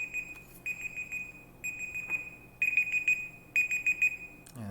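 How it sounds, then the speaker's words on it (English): A kitchen timer alarm set for cooking rice beeps in a steady pattern of repeated bursts with short pauses between them. It sounds close and clear, with no talking, and a brief thump at the very end. "that's my timer to go check out my rice."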